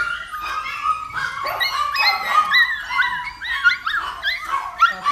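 Golden retriever and Labrador puppies placed on the floor together, giving a steady run of high yips, whimpers and small barks that overlap closely and continue without pause.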